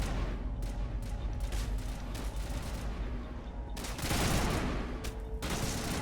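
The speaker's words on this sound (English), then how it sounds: "Yep, somebody's shooting at me." Steady bursts of gunfire in the video game Mass Effect, a continuous fusillade of rapid shots that grows heavier and louder midway, with no talk over it.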